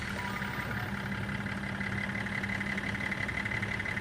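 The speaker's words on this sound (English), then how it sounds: "I need to switch my engine on for a minute because it's getting cold. But you will be able to hear a bit of engine noise" A car engine idles close by, heard from inside the vehicle with the microphone right beside the engine: a steady, even low hum with a faint tonal drone and no change in level.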